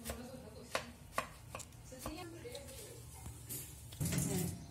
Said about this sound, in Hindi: अब हम यहाँ पे मसमेलन भी काट रहे हैं।